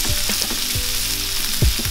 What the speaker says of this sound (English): sauteing the peppers.